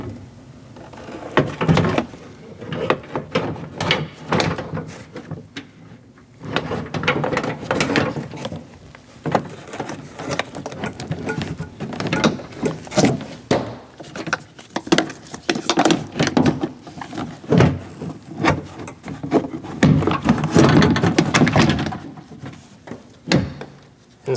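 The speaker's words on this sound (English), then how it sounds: "Push the bottom part in and then fully seat the door panel" A rear door panel on a 2011 Dodge Durango being pushed into place and seated, with repeated close plastic knocks, thumps and clip snaps in uneven bursts throughout.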